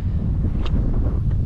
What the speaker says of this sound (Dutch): er is misschien wel een beetje wind, maar ik ben aan het klieven door de wind met deze tijdritfiets.